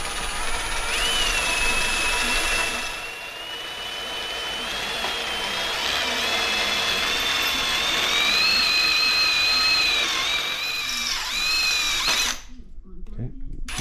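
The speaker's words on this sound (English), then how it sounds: "So we're gonna drill that out." A power drill whines loudly and steadily, its pitch rising and wavering as it bites through metal on a snowbike conversion kit for an SE Bikes PK Ripper, then cutting off abruptly at the end.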